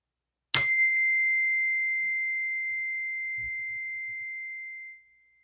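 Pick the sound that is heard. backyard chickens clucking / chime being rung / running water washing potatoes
chime being rung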